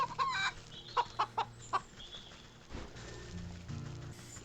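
Chickens cluck in a short burst of sharp, close calls within the Wytchwood video game, followed by quieter game ambience and a few soft background noises.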